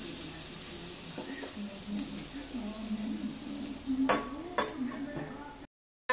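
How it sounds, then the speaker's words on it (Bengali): Diced papaya frying over medium heat in a covered pan, a soft steady sizzle with occasional clinks of the lid or utensil, faint and continuous, ending abruptly. "আঁচটাকে মিডিয়াম করে দেব, দিয়ে ঢাকা দিয়ে দিয়ে এখন কষে নেব পেঁপেটাকে।"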